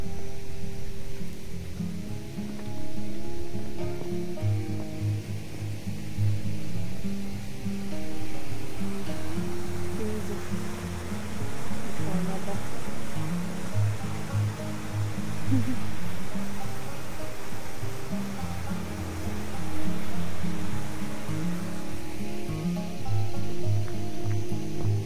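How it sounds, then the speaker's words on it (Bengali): A small waterfall rushes steadily in the hills on a trek near Kalimpong, a continuous watery roar with low rumbling, while people talk intermittently over it. "একটা ছোট ঝর্ণা আছে, যেটার আওয়াজ আমি শুনতে পাচ্ছি।"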